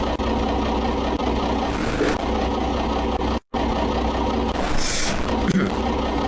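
A 4.4 liter inline-six diesel engine with a five-speed manual runs steadily in BeamNG.drive, a continuous low rumble at constant level with a brief cut in the middle, some background noise over it.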